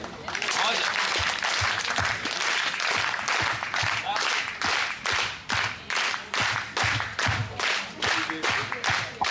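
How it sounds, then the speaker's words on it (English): Steady audience applause at a medical school launch event fills the clip, dense clapping from many hands that swells and pulses, with a few voices mixed in. "give her one more last applause"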